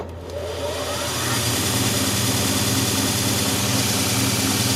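A DIY 2x72 belt sander runs up to speed, its motor rising to a loud, steady whir and hum with a constant belt rush, close and alone.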